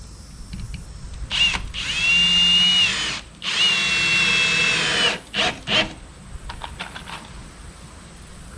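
A power drill drives 2.5 inch construction screws into wood while a shed shelf is built. Two long, loud whirring runs are broken by short pauses, then come a few brief bursts close by.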